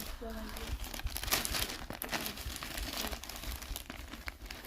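Plastic bag crinkling and rustling in bursts over several seconds, close to the microphone, with a voice talking faintly alongside.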